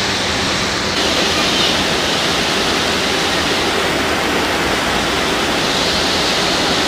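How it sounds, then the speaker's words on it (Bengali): Heavy rain drums on a tin roof, a loud, unbroken roar of dense spatter that stays constant from start to finish, like rushing water. "টিনের চালে বৃষ্টির আওয়াজটা অনেক ভালো লাগে"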